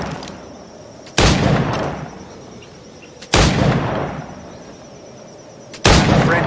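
Three loud, separate gunshots from period firearms in Assassin's Creed IV Black Flag, each a sharp crack with a long decaying boom, spaced a couple of seconds apart with low ambient hum between them.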